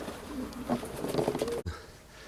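Homing pigeons coo softly as they return to their loft, with light fluttering and rustling around them, followed by a sharp thump and a quieter tail.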